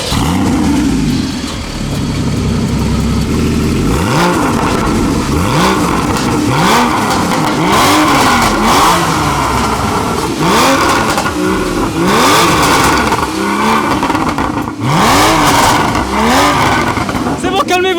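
A Porsche Cayman GTS flat-six engine revs hard again and again, each rise and fall of pitch loud and close, with voices faintly audible beneath the engine.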